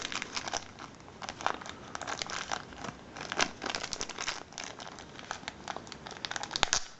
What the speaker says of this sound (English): I don't want to rip the bag